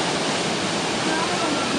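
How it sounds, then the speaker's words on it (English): Tinuy-an Falls roars nearby in a dense, constant rush of falling water, a broad steady wash of noise with no break across the moment. "There's a waterfall right behind me."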